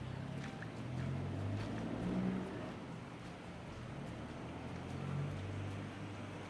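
A car driving slowly through a flooded street in Phuket Old Town, a low rumbling engine and a wash of water that swell and fade twice, fairly faint over a steady outdoor background, with no talking.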